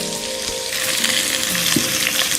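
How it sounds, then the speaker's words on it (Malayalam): Chopped shallots sizzle in hot oil in a pan, a steady close crackling fry with light stirring scrapes. "നമുക്കിനി ഇതിലേക്ക് നമ്മൾ അരിഞ്ഞു വെച്ചിട്ടുണ്ട് ചുമന്നുള്ളി,"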